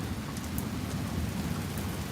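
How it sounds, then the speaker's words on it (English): A live thunderstorm brings steady, dense rain and wind with a low rumble of thunder underneath, continuous and fairly loud, with no voices. "I'm gonna shut up so y'all can hear the thunder and rain and wind"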